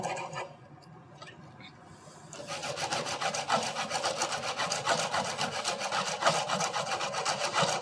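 Hand saw cutting through PVC pipe for a homemade bow: faint scraping at first, then from about two seconds a steady, close, rhythmic rasp of back-and-forth strokes.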